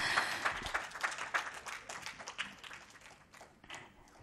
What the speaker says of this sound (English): just give them a big, big round of applause.